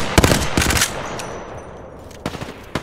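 Spitfire light machine gun from Apex Legends firing in two short close bursts of rapid shots, followed by a quieter lull and then a few more sharp shots near the end.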